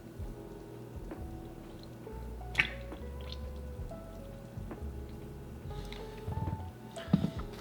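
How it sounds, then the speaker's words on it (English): Fruit pressed down inside a canning jar already filling with juice, giving soft wet squishes, drips and small bubbly pops, close and intermittent with a few sharper clicks. "We want to push it down to get all the bubbles out"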